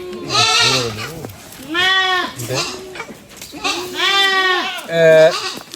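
Several goats bleat loudly in quick succession, wavering cries close by, with people talking faintly in between.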